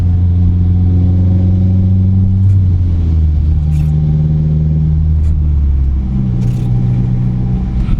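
A car drives along a snowy road, its interior filled with a loud, steady engine drone and low road rumble as the engine pitch shifts up and down, with no voices.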